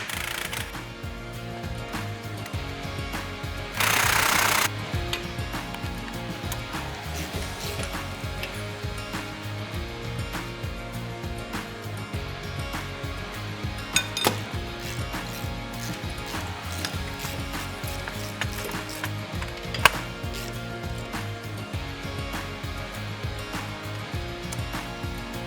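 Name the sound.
removing bolts from pump suction housing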